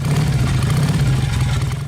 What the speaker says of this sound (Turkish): Motosiklet giderken işte böyle ses çıkarır.